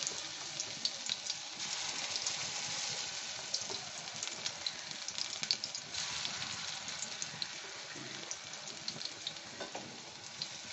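Shapla (water lily) stalk pakoras, onion-fritter style, frying in hot oil, a steady dense sizzle with faint crackles and bubbling throughout, no voices.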